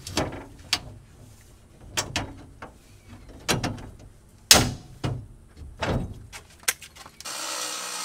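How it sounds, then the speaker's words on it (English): A rivet gun setting rivets, giving a series of sharp, close mechanical clacks and snaps at irregular intervals, with a burst of hiss near the end. "we grab our rivet gun or rivet."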